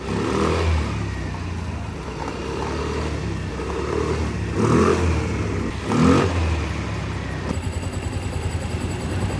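A Yamaha Mio i125 scooter engine, after a crankshaft spline rebuild, revs repeatedly, rising in several loud surges before settling into a rough idle, close to the microphone.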